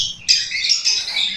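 Birds chirping and squawking at a flight deck loft for raised birds, a burst of bright, high calls that starts abruptly and continues in overlapping tweets at close range.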